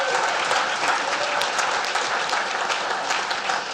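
Steady, dense applause from a conference audience thanking the judges at a WordCamp event, sustained and fairly close for the whole stretch with no pauses.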